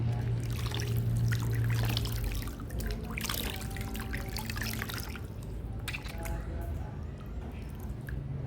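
Water trickles and drips during a skin care routine with Vaseline and baking soda, as close, wet splashing and pouring sounds over a low steady hum.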